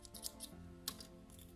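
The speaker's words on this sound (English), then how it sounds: "cut the yarn, fasten it off" Scissors snip through crochet yarn at a fish amigurumi: two or three quick, close metallic cuts sounding alone against a quiet background hum.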